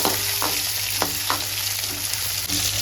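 Small shallots sautéing in oil with curry leaves for a herbal vathal kuzhambu, a continuous close sizzle with occasional soft scrapes of stirring, no speech.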